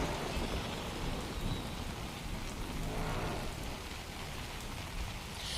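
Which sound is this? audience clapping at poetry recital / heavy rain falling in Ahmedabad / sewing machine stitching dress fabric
heavy rain falling in Ahmedabad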